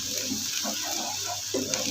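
Two to three spoonfuls of water are added to frying onions in a cooking pan while making dhaba-style chana dal, giving a steady close-up splashing and sizzling hiss with a brief louder burst near the end.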